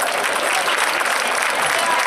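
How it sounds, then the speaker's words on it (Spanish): Audience applause at a Santa Eulalia besamano celebration in Mérida, a steady dense wash of clapping from a crowd that holds evenly throughout, with a faint murmur of voices underneath. "Bien, amigos, muy bien ese aplauso."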